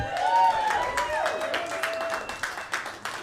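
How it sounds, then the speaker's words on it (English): Comedy club audience claps in scattered, uneven bursts that thin out toward the end, with voices and some whistling mixed in over the applause. "Please, can you clap again?"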